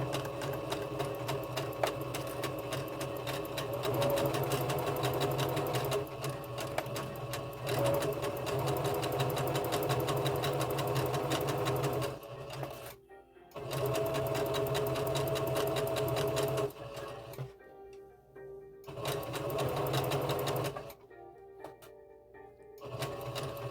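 A sewing machine stitches a child's T-shirt in steady, rapid runs, with brief pauses and a few short backstitch bursts; the mechanical whir is close and continuous between stops.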